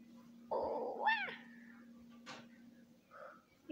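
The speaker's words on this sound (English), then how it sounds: "You're a good kitty." A kitten lets out one clear, close meow, followed by a softer trailing cry and a faint later chirp, over a quiet steady hum indoors.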